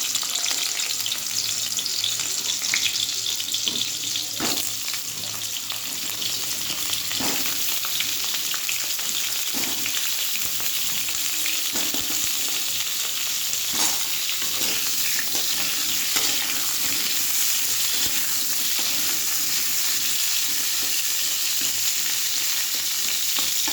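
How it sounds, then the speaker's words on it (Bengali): Pointed gourd (potol) pieces fry in hot oil, giving a loud continuous sizzle with occasional crackles and stirring clicks, close up, no talking. "আগে আমি পটলটা ভেজে নেব।"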